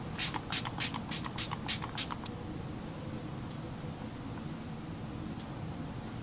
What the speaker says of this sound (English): And we'll spray one last time with our Fix Plus.